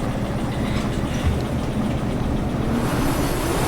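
Locomotive in the train game Derail Valley straining for traction in a rail yard, a steady low engine rumble and rolling rail drone running continuously at moderate loudness throughout.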